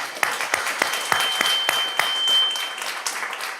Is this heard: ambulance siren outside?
no